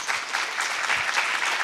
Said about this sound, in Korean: 그 여러분들의 그 입학을 자축하면서 큰 박수 한번.